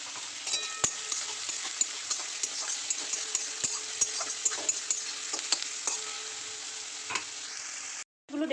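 Salted chopped onions fry in oil with bay leaf and whole spices, a close, steady sizzle broken by regular scraping stirs and small ticks, alone with no voices.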